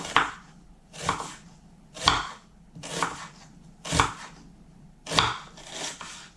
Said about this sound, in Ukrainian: Нарізаю цибулю напівкільцями.